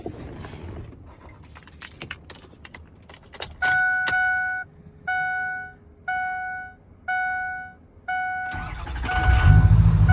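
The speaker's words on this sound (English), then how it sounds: "So now when I start it, it should start up immediately." Keys jingle and a vehicle chime dings five times in steady pulses, then a Ford 6.0L PowerStroke diesel cranks and fires at once into a loud, low rumble.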